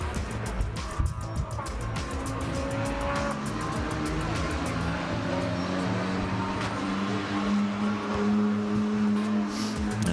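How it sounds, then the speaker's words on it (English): Loud racing cars drive past in the paddock at the FIA Motorsport Games 2024 karting, F4 and GT event, a continuous roaring engine bed with rising and falling passes and brief tire squeals throughout. "And some cars, yeah, in the background in the paddock are driving by. Some loud cars."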